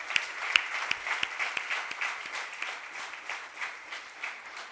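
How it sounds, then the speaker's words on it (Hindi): Audience at a session clapping together, a fairly close patter of many hands with a few sharp individual claps standing out, holding at moderate loudness throughout. "उन सब के लिए तालियां"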